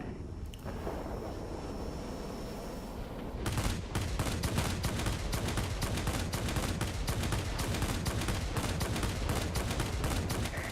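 Twin aircraft cannons on a Me 1099 B-2 German jet in a combat flight game fire in long rapid bursts after a steady engine drone, with dense staccato shots filling the rest of the clip.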